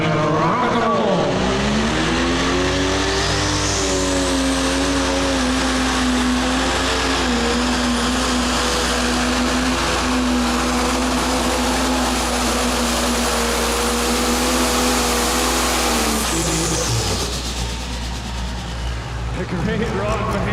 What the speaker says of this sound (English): Alex Brinkmeyer gonna build the boost, bring up the RPM, and rock and roll.